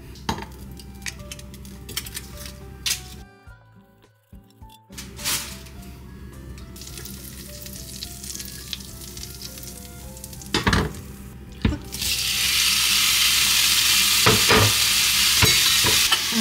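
Butter and meat sizzle in a frying pan with occasional clinks and scrapes of a utensil, then the frying hiss swells louder and denser near the end. Faint background music plays underneath.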